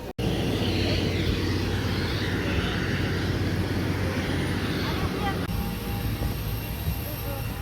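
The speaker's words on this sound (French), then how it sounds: "on va prendre l'avion et on va retourner en France" An airplane at an airport in Italy, departing for France, produces a loud, steady engine roar that fills the whole stretch with little change.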